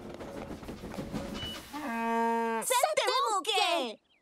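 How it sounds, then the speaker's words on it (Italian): A cartoon cow from Thomas the Tank Engine lets out a long, rising moo over background music, followed by voices singing or speaking up close. "Qui un mumu, lì un mumu ogni dove mumu."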